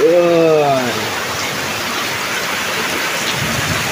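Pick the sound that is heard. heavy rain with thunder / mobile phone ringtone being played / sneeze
heavy rain with thunder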